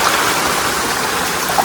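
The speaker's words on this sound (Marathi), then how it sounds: "धबधबा" A natural waterfall or stream in a scenic outdoor trip spot, heard as a steady, loud, broadband rush of falling water with no pause, close and continuous throughout.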